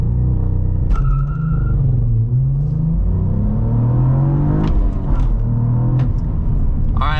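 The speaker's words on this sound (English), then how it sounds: "launch control in the Blackwing. We are in track mode." A 2024 Cadillac CT4-V Blackwing with a manual gearbox launches hard in track mode, its engine roaring loudly up through the revs with quick dips at gear changes, close and continuous throughout.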